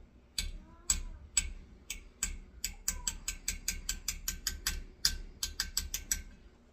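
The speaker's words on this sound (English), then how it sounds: "I know a lot of people hate that I tap, but I'm trying to get the batter off of the whisk." A metal whisk tapped against a mixing bowl to knock off rum cake batter: a long run of sharp, bright clinks, first spaced and then faster and evenly rhythmic, close and alone.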